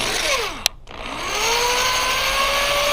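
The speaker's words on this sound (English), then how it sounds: "Get the drill" A power drill whines down, stops briefly with a click, then spins back up to a steady high motor pitch as it drives a soap-lubricated screw into a door, close and loud.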